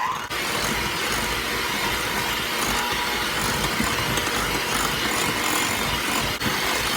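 An electric mixer creams unsalted butter on medium speed, giving a steady, close, even whirring hum that runs unbroken for about seven seconds.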